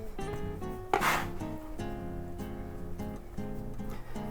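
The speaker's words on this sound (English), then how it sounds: "pushing down with our scraper. Scrape it up, flip it over, push it down." A metal bench scraper rubs and presses cheese ravioli pasta dough against a board, giving close, steady rasping scrapes with a sharper scrape near the middle.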